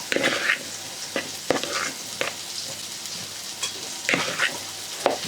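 A spoon stirring hot potato with melting cheese, soft scraping and clinking strokes at an irregular pace over a faint steady hiss, with no talking.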